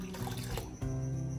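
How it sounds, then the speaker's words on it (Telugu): Water being poured from a cup into about a litre of milk in a pot on the stove for suji kheer, a steady close liquid splash and gurgle lasting the whole moment with no talk. "ఈ పాలలో నేను ఇంకొక 1 కప్పు వాటర్ ని యాడ్ చేస్తున్నాను"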